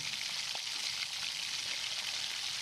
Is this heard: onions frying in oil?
yes